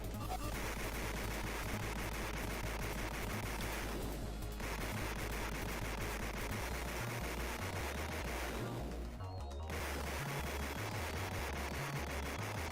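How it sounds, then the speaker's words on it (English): Rapid gunfire in The Terminator retro video game, shots fired continuously at the Terminator, forms a dense, steady barrage of bursts layered over loud game music, with no talk. "Just keep shooting him until he goes down, starts flashing."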